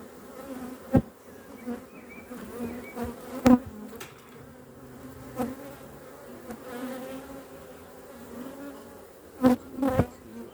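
Honeybee colony buzzing close by while a grafted queen's hive is moved into a new box, a continuous hum with louder passing buzzes and scattered clicks and knocks from the hive work.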